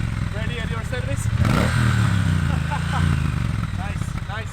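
A Triumph Bonneville T120 motorcycle engine idles and revs in short blips, a deep rumble with rising and falling pitch close by, while someone talks over it.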